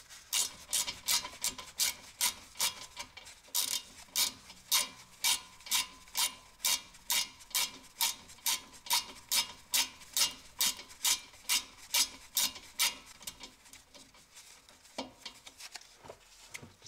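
A 7 mm hex key turning out the brake caliper bolts on a VW makes a close, rapid series of rhythmic ratcheting clicks and rasps, around two per second, steady for most of the stretch before slowing near the end.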